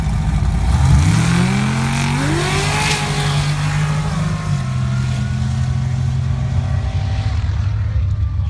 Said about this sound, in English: So 565 big block, aluminum big block Chevy in this Jeep over here.